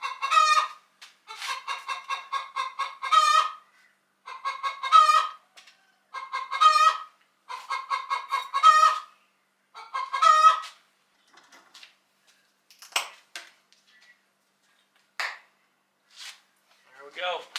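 Chickens cluck and a rooster crows in a loud, close series of repeated calls, broken by short pauses, before fading into scattered fainter clucks and small noises.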